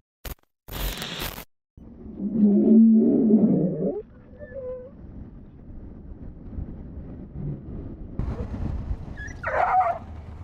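A dog is heard in replayed footage of it striking the front tyre of a motorbike, giving loud, rough growling and barking sounds amid road noise, with a few brief bursts and a later whine.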